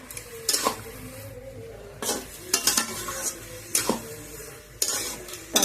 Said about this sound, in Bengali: বন্ধুরা, এইভাবে নাড়াচাড়া করতে হবে অনবরত